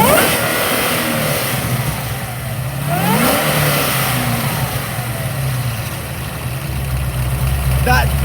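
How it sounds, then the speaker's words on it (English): An 850 hp supercharged Holden VF2 Commodore SSV Redline sedan running on E85 revs up and settles in repeated rising sweeps over a steady idle, loud and close throughout. "That's the sound of a Supercharger"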